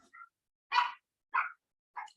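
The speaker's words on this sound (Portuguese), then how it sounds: "os cachorrinhos aqui estão coisados" Small dogs whimpering: a few short, high, thin whines spaced apart against silence, fairly faint and close, with no talk.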